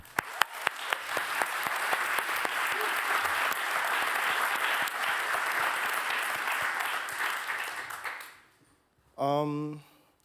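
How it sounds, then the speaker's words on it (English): A crowd at a Greenpeace climate-justice event applauds for Junie, dense sustained clapping for about eight seconds that fades out, followed by a brief musical or vocal tone. "Please, round of applause for Junie."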